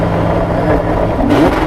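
A street-legal Porsche 917 fitted with an Audi R8 V10 engine revs hard and close, a loud sustained roar climbing toward the rev limiter.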